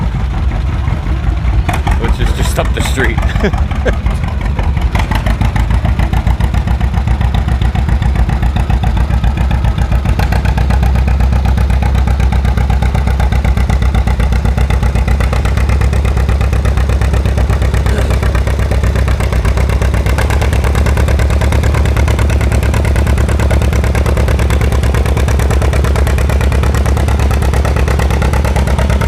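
A pulling tractor's engine roars steadily through a snake pipe exhaust at a live tractor pull, a loud, continuous low rumble close by that persists throughout, with faint voices underneath.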